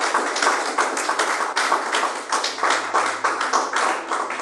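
A church congregation claps in praise, a near, loud burst of many hands pulsing in a brisk rhythmic beat throughout.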